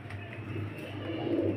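Domestic pigeons kept for sale coo in low, soft, repeated throaty calls close by, with a steady background hum and no talk.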